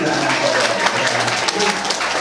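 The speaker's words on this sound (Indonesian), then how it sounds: "Tepuk tangan sekali lagi." An audience at a school event claps steadily, a dense, even wash of applause at close range that holds through the whole stretch without a break.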